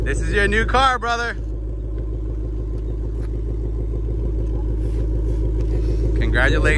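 A 2020 Shelby GT500 engine idles with a steady, deep low rumble that holds for the whole stretch, while voices speak briefly over it at the start and again at the end.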